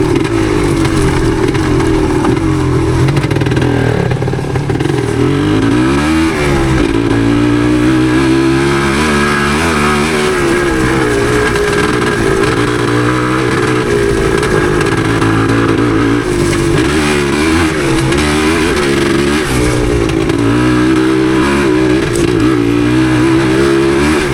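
A 1977 Yamaha DT250 two-stroke dirt bike ridden through woods, its engine loud and close, revving up and down continuously with rising and falling pitch over bumpy terrain, no voices.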